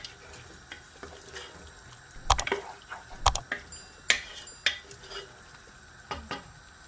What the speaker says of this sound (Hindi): पाँच मिनट तक इसकी बुनाई करेंगे हम गोश्त की।